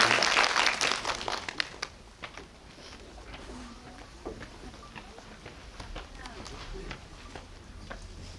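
A cinema audience at a film guest visit in Lotte Cinema World Tower breaks into a burst of applause that fades within a couple of seconds, leaving a few scattered claps and quiet room murmur.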